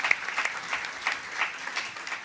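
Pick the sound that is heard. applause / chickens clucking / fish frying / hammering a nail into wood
applause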